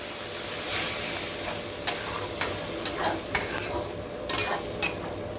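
Spice paste frying with potatoes and cauliflower for aloo fulkopi, a steady sizzle broken by scattered clinks and scrapes of a spoon stirring the pan, close and moderately loud.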